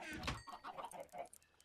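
Minecraft chickens give a few quiet, short clucks in quick succession, faint and close together, with no clear talk over them.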